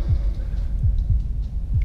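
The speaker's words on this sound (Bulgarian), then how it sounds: "Туптене!" Throbbing heartbeat effect in a horror video game set in a pharaoh's tomb with a pursuing mummy, low, heavy pulses repeating steadily and loud, about four beats, with no talk over them.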